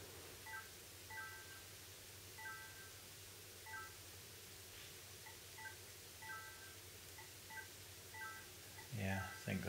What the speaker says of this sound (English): Hopefully there's a way of turning those stupid chimes off.